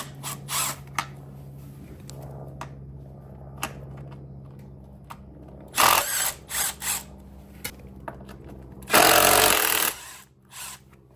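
A power drill removes skid plate bolts on a Surron Ultra Bee electric dirt bike: faint mechanical clicks, then a short whirring burst and a longer, louder grinding run near the end, close by with no talk.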